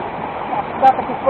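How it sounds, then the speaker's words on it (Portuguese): The Rio do Ouro waterfall gives a steady, loud, broadband rush of falling water that fills the whole clip, with brief splashy bursts and someone speaking over it. "Olha essa cascata aqui"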